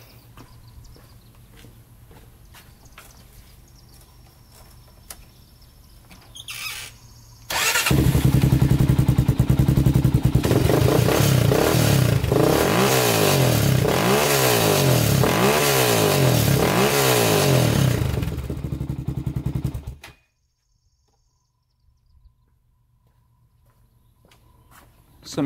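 A quad ATV engine with a recently fixed coil cable fires up at once and runs loud and close, revving several times in rising and falling surges before shutting off into near silence.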